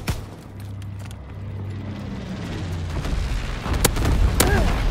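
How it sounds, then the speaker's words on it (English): Incendiary bomber strike in the video game Call of Duty WWII, heard as a low, rolling rumble of booms that builds steadily, with a few sharp cracks near the end. "Altitude bomber inbound. Incendiary mission commenced."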